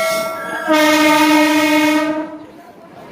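Howrah–Digha EMU special sounds a loud, sustained multi-tone horn while running through Kolaghat railway station, with steady train rumble underneath and the horn fading out toward the end.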